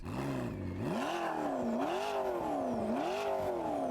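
A McLaren P1's 3.8 litre turbocharged V8 revs repeatedly, its pitch swelling and dropping in several rising-and-falling waves, loud and close with a steady whirring underneath.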